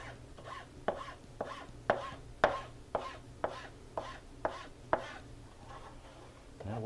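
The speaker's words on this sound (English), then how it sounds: "We have these chilies washed, crowned, seeded, and they're just ready to be sliced." A knife slices through washed, crowned and seeded poblano chilies on a cutting board, making about a dozen crisp, evenly paced chopping taps in steady rhythm, close and moderately quiet.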